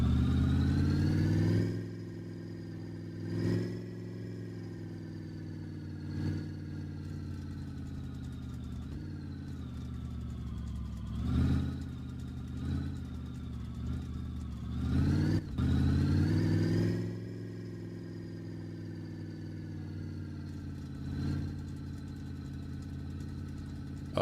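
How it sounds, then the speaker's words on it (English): A video game car engine idles with a low, loud, droning rumble, punctuated by a few brief revs that swell and fade. "Definitely need to get a new exhaust header. This thing is loud."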